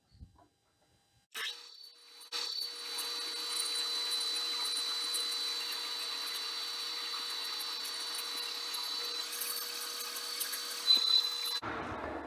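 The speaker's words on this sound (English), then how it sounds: "I'm going to drill and tap a 1032 all the way through." A steady, sustained whine of a drill boring a 10-32 hole through metal on a Harbor Freight mini lathe for about ten seconds, fairly close, with a high tonal edge and no talking.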